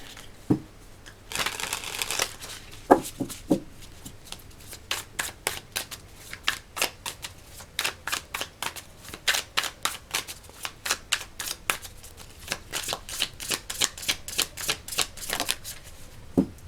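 A tarot deck being shuffled by hand, repeated crisp riffles and slaps of cards in quick bursts, close and fairly loud throughout.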